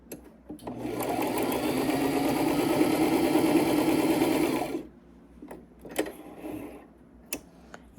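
A sewing machine stitches quilt pieces together in a fast, even run of about four seconds, then stops, leaving scattered small clicks and handling sounds.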